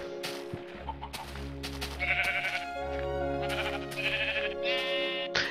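Sheep in the retro version of Minecraft bleat several times over a steady low game drone and background music, the bleats overlapping in short bursts at a moderate distance.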